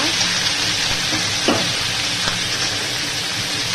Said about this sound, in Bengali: কালো জিরা রাঁধুনি তেল দিয়েছি, দিয়ে পাঁচমিশালি একটা সবজি দেবো